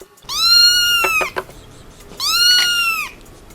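A cat lets out two long, loud meows close by, separated by a short pause with a few soft thumps.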